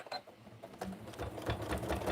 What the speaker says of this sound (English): I'm just doing some random lines across just to stitch it down